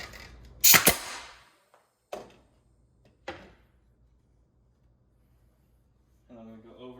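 Pneumatic nail gun fires into window trim casing, a sharp close double crack followed by two further single shots spaced apart, then a brief voice near the end.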